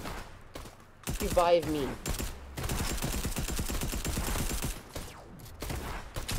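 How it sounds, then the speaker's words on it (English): Gunfire and grenade blasts in the Fortnite video game come as dense rapid volleys of close shots that continue for several seconds, with a player briefly speaking over them. "Dude, I'm getting shot by grenades."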